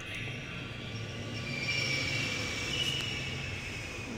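A train in the video game The Longest Journey rumbles along steadily, with a sustained mechanical hum and faint rail squeal, no voices.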